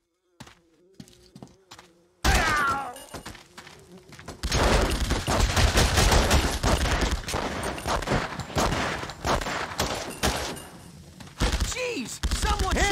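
Dense bursts of gunfire from The Punisher on PC during a mission at the Gnucci estate, loud sustained volleys with shouting voices mixed in after a quieter opening.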